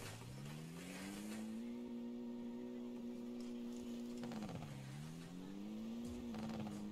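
A fast car in a Roblox roleplay game drives with a steady, synthetic engine drone that rises, dips briefly and climbs back, sounding fairly quiet and uniform throughout.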